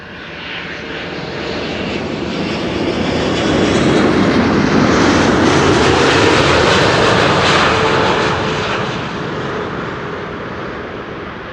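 A KLM airliner, PH-BQP, arrives at Amsterdam Schiphol after a long flight from Cape Town, its engines a broad, loud roar that builds, peaks for several seconds and then slowly fades as it passes.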